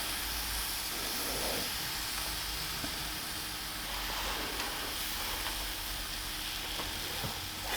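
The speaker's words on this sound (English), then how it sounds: "Straight away you can hear it sizzling" Continuous steamy sizzle and crackle from salmon cooking on a wet oak plank in a wood-fired oven, steady and close with faint pops.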